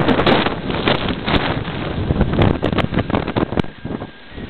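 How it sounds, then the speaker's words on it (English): Strong blizzard wind in Duluth, Minnesota roars and buffets the microphone in loud, gusty bursts, close and rumbling, easing slightly near the end. "Oh my goodness, it's windy."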